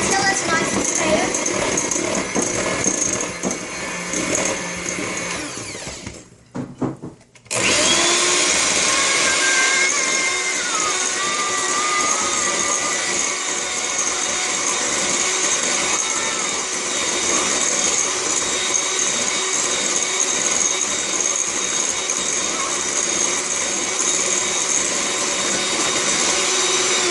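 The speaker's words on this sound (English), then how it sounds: "so now we're going to beat the eggs into the batter" An electric mixer beats eggs into jelly doughnut muffin batter, running with a loud steady whir, briefly stopping and restarting, then droning on continuously; a voice talks faintly beneath.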